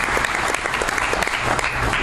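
Dense, steady applause from an audience at a political speech fills the whole short stretch, loud and close, with scattered sharper claps and a faint crowd murmur beneath.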